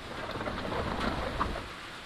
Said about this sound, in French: Bon, du coup, l'orage est arrivé.